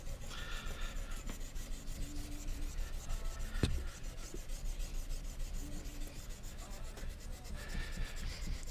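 A knife blade is worked by hand across sandpaper in steady back-and-forth rubbing strokes. The scraping is close and continuous, with a rhythmic rasp and a few faint clicks.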